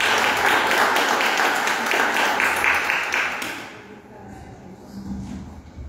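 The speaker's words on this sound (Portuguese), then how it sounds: "Quem crê nisso, dá uma salva de palmas para Jesus." A church congregation applauding, dense hand clapping that fills the first few seconds and then fades out, leaving quiet room sound with a low voice underneath.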